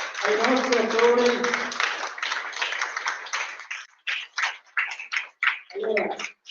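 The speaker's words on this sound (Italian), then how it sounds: "Facciamo un applauso ai nostri attori." An audience at an awards ceremony applauds the child actors with steady clapping while a voice speaks over the start, then the clapping breaks into scattered bursts and a brief voice.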